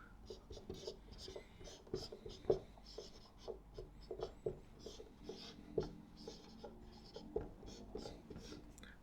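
Chalk or marker strokes on a board while an equation is written in a lecture on transfer functions, a steady run of short scratchy taps and scrapes in a quiet room, with soft talk in the background.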